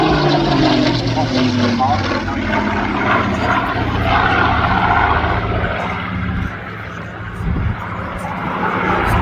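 Supermarine Spitfire Mk. XIX PS853, an unarmed high-altitude reconnaissance aircraft built at Eastleigh, drones through a flypast at the Southport Airshow. Its piston engine gives a steady, loud propeller roar that swells and fades, while a commentator talks over it.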